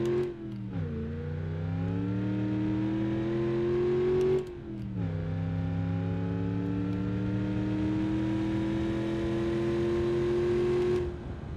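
A V8 car engine with variable valve timing in BeamNG revs hard under acceleration, its pitch climbing steadily, dropping sharply at a gear change, then climbing again, loud and close with no talk over it.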